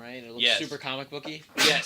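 A single short, sharp sneeze bursts out at the end of relaxed conversation between people chatting about video games, with talk running right up to it.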